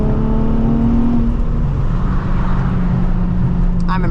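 Nissan 350Z engine pulling hard at night in the cold, a loud continuous droning rev with a rising tone and steady roar, recorded close with some wind noise.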